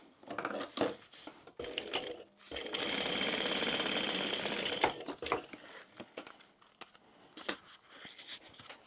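A sewing machine bastes along the top of a small crossbody bag, a sustained mechanical whirr of needle strokes for a couple of seconds amid softer handling clicks and fabric taps, close and without talk.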